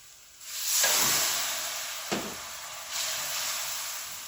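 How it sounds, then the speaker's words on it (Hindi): Water splashed into hot spices frying in a pan, Kashmiri chili powder among them, gives a sudden loud hiss that swells and slowly fades, then a second burst of sizzle later, with no talk. "अब मैं थोड़ा सा पानी ऐड कर दूंगी"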